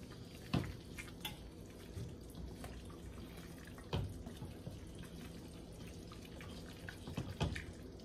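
Jamaican curry coconut chicken with potatoes is stirred in a pot, a spoon scraping and clinking against the metal in scattered taps over a soft background hiss, with no one talking.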